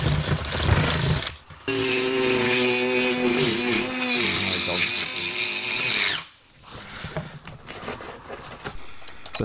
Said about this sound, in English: we should just be able to drill a corner